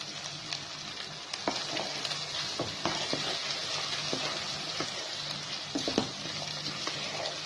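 Green chilies and minced meat fry in a pan for a hari mirch qeema, with steady close sizzling and a spoon scraping and stirring in irregular knocks, no voices.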